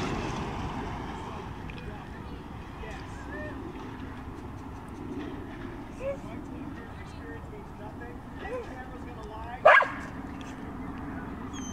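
Dogs bark outside a house, a few faint, distant woofs over a windy outdoor background, ending in one sharper, louder bark near the end, with people talking.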